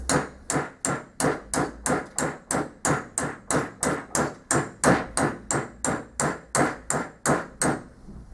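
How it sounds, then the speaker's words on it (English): A hammer taps a pin out of a Ford Transit starter motor during repair, about twenty evenly spaced metallic strikes in a steady rhythm, close and loud, with no talk. "you have to give the pin a few taps"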